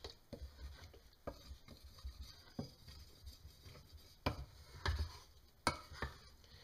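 Air dry clay being stirred together with water, a soft irregular scraping and patter broken by a few sharper clicks and knocks, quiet and close, with no voices.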